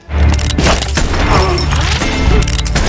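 Gunshots from a gangster revenge film scene set in a church, where a man is shot several times with a pistol, come as a loud, close burst of sharp cracks and thuds packed into a few seconds.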